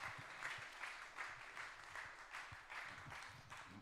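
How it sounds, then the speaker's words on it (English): Congress audience giving a steady round of applause, many hands clapping in a dense, even wash with gentle swells, heard from a distance and fairly faint. "So let's welcome them with a round of applause."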